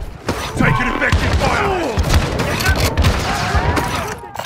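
Heavy gunfire in Call of Duty: Modern Warfare 2, dense overlapping shots and thuds in a continuous loud barrage with radio-style voices talking over it.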